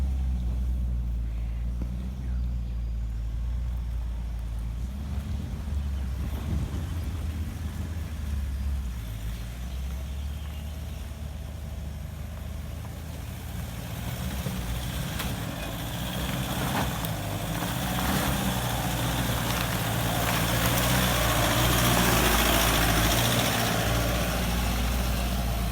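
A four-wheel-drive vehicle churns up a wet, slippery dirt track after rain, its engine droning and revving steadily as the wheels spin, building louder toward the end with no voices.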